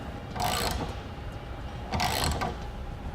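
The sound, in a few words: tightening bolts on a Thule truck ladder rack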